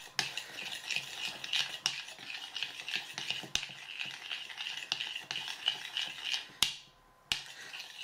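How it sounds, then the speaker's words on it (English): Tempered chocolate is stirred vigorously in a bowl, giving a quiet, steady scraping and rattling with a few sharp clicks, close and with no voices. "stir it quite vigorously"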